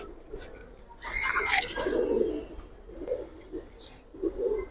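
A military pigeon pair in a loft coos in repeated low, throaty phrases, close and clear, with a brief sharper rustle near the start and soft background noise between calls.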